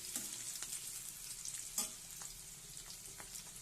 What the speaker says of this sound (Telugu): ఆనియన్స్ వేసుకొని ఫ్రై చేసుకున్నాను